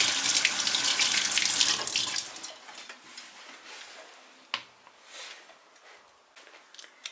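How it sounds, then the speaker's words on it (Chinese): Pears being rinsed under a running kitchen tap, a close hiss of flowing water that stops after about two seconds, followed by soft clicks and light handling of the fruit. "咱让雪梨给它冲洗干净。"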